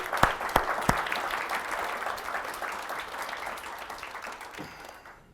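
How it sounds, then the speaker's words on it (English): Audience applause at a professional learning event, opening with a few sharp distinct claps that swell into steady crowd clapping, then gradually fading toward the end. "So let's give them a round of applause."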